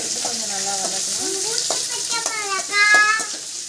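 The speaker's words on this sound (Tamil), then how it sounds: "வெங்காயம், பச்சை மிளகாய், அப்புறம் கொஞ்சம் நல்லா வதக்கணும்." Onions and green chillies sauté in a pan with a steady close sizzle, while someone talks over it throughout.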